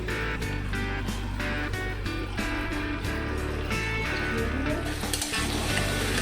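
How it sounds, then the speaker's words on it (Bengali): Ghugni masala fries in a pan for breakfast with a steady, loud sizzle and occasional stirring scrapes throughout, close up, with no talking. "তো এখন আমরা হালকা একটু কষিয়ে নেব"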